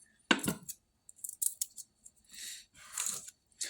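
A kitchen knife chops and slices fresh garlic on a cutting board, giving a sharp opening chop followed by a series of quick, close, crisp cuts and scraping strokes with brief pauses, with no voices over it.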